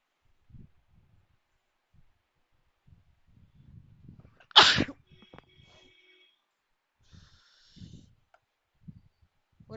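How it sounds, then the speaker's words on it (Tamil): One sharp, loud sneeze bursts out close by in an otherwise quiet room, with soft rustles and small movements before and after. "என்ன அப்பப்ப கொஞ்சம் தும்மல் ஒரு மாதிரி இருக்கும்."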